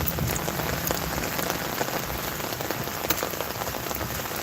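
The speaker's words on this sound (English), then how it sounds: "You need to walk in the rain." Steady rain falls outdoors during a walk, a dense, even patter with scattered individual drops close by, continuous for the whole stretch with no voices.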